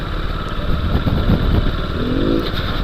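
Hero Splendor 100cc motorcycle accelerating past, a mid-pitched engine drone rising briefly as it goes by, heard from a riding position under steady wind and road noise, no talk.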